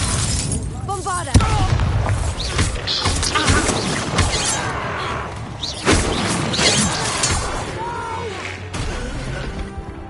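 A Bombarda spell in Hogwarts Legacy sets off loud crashing, shattering blasts over a dense, continuous game soundscape, with repeated impacts and rumbling debris throughout.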